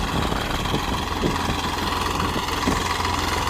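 A tractor engine runs steadily nearby, a continuous mid-low rumble and idle-like drone with vibration, no talk over it.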